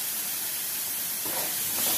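Curry leaves hit hot oil already holding cumin, mustard seeds and chillies, giving a loud, steady hiss that swells slightly toward the end, close and with no talk.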